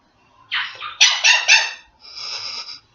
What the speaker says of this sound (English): Now she's going to bark like a dog.